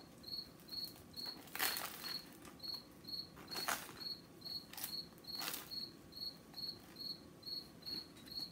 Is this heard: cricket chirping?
yes